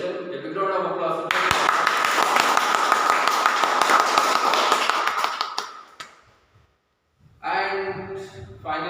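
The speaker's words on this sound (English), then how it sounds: "A big round of applause." A Toastmasters club audience gives a round of applause, a dense burst of clapping lasting about four seconds that fades into near silence before a speaker's voice returns.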